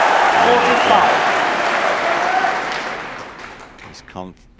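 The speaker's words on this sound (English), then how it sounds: "They've given both players a lot of applause" Applause from a snooker match audience in a conference centre at the 1997 Masters, a dense sustained clatter of clapping that slowly thins and fades toward the end, with a few scattered claps left.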